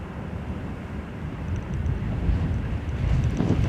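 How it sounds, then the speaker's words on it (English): Strong wind buffets the microphone at Manchester Airport, a low, rough rumble that swells and grows louder over a few seconds with no one speaking. "Oh my word, that wind! Yeah, pretty strong."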